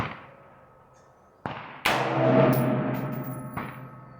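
A single .223 Remington round cracks from an AR-15 with a 16-inch barrel, a sharp loud report with a ringing tail outdoors, preceded by a fainter click or thump.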